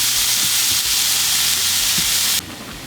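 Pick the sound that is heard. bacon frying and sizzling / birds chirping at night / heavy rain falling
bacon frying and sizzling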